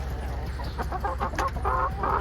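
Chickens on a farm cluck close by just after being fed, in short, overlapping bursts over a steady low background hum, with no talking.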